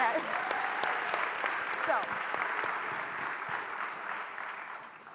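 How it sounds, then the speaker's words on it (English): Sustained crowd applause with dense clapping throughout, a voice briefly speaking at the start. "a round of applause for that"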